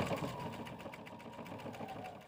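Close, quiet sewing machine stitching a fabric strip with elastic, a fast steady mechanical whir with rapid needle ticks running throughout.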